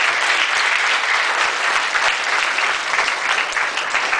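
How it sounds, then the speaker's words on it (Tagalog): A church congregation at a Foursquare district licensing ceremony in Pangasinan applauds loudly and steadily, a dense sustained roar of clapping filling the whole stretch. "Pumalakpak sa buhay na Diyos."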